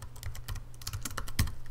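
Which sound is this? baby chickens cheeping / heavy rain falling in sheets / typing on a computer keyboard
typing on a computer keyboard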